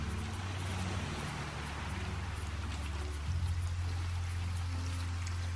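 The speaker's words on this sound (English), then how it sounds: "It's raining!" Steady rain falls in the Raft survival game, a continuous dense patter with a low rumbling wash underneath, loud and unbroken, with no talking.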